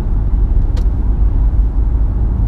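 A Citroen C5 Aircross rolling along a road, its steady low engine and tyre rumble holding close and even throughout, with a brief higher hiss partway through.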